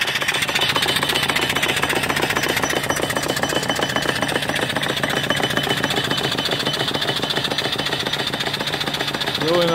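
A steam engine with a flyball governor, running off a 12-inch diameter boiler, chugs with a rapid, very steady mechanical beat and a continuous hiss, loud and close throughout with no pauses or talking.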